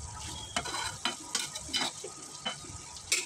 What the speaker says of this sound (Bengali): আমি এখন ঢাকনা খুলে একটু নেড়ে দেব